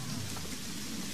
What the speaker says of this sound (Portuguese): Está chovendo.